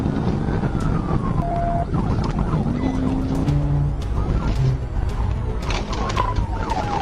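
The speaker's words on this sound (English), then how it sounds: "Officer Rome activated his emergency lights and siren" Police car siren wailing during a high-speed chase at nearly 120 mph, sweeping tones over dense road and engine noise, steady and fairly loud with no talk.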